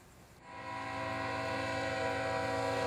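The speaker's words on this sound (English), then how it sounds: "this Iowa Interstate train passing northbound by Blue Island Station will be entering the yard" Iowa Interstate freight train rolling northbound past the Blue Island commuter station, a steady loud rumble with sustained horn-like tones that swell in after a quieter start and hold strong.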